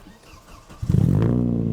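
A Subaru SVX engine catches after a quiet moment and settles straight into a loud, steady, close-up idle with a deep throbbing rumble.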